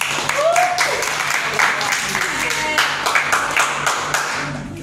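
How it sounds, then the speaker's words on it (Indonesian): Classroom applause: a group of students clapping together for several seconds, close and lively, with voices talking over the claps. "tepuk tangan dulu untuk Catherine."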